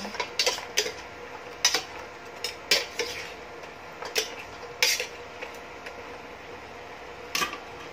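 Pork ribs being stirred in a boiling pot, with a utensil repeatedly clinking and scraping against the metal at an irregular rhythm over a soft bubbling simmer, close and moderately loud, with no talking.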